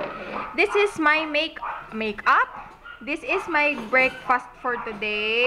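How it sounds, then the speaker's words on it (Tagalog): A dog barks and yips repeatedly in the background at a home, short sharp bursts scattered throughout while someone talks continuously over them. "ang ingay naman ng aso."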